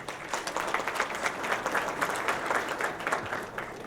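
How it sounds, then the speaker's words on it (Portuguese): Steady applause from a seminar audience, dense clapping that holds at an even level for a few seconds without voices. "Vinícius Samarone, Millennium Bus, uma salva de palmas."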